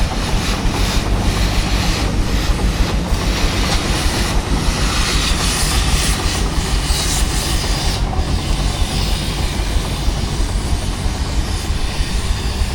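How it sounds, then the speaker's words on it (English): A Foden steam wagon drives at a steam and craft show, a loud continuous rumbling, clattering mechanical roar with rhythmic pulses, heard close with no talk. "this is a Foden steam wagon called Enterprise"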